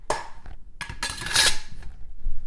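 Oats, banana and raisins stirred in a single bowl of breakfast cookie dough, a spoon scraping and clinking against the bowl in a busy, close, continuous run of knocks and scrapes, with no talking.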